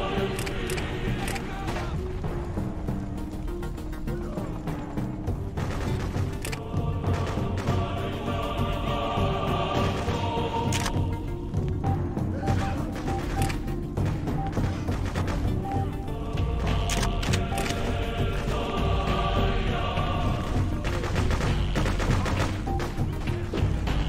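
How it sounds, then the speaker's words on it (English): Sustained gunfire from the Freedom Fighters video game, rapid rattling bursts and scattered shots continuing throughout, moderately loud, with voices talking amid the shooting. "We're taking fire."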